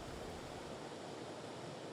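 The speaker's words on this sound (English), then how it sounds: "High Force is the mightiest of the waterfalls on the Tees." High Force, a 21-metre waterfall on the River Tees, roars as a dense, steady broadband rush of falling water that stays loud and unbroken throughout, with no voices.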